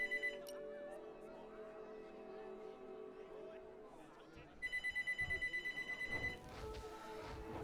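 A telephone rings in a rapid warbling trill in the middle, under ongoing speech and dense game music.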